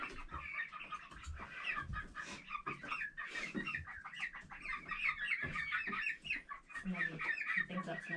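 Hens clucking and cackling steadily in a busy cluster, close by, with a few low voices murmuring underneath.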